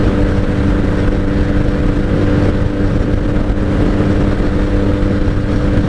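Steady, loud engine drone from a 1997 Honda Magna VF750C motorcycle cruising on a highway with bad fuel in the carbs, a continuous low rumble with wind noise from the rider's point of view, no speech.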